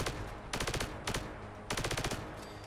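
Laser RCW automatic energy weapon firing in Fallout 4, heard as three loud rapid bursts of repeated zapping shots with short pauses between them.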